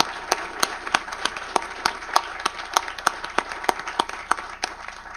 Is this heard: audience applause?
yes